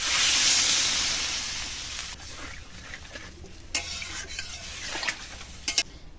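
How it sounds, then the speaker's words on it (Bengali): Water is poured into pumpkin and potato frying in a pan, a loud rushing hiss that fades over two seconds into quieter simmering with spoon and pan clinks. "এবার এর মধ্যে জল দিয়ে দেবো"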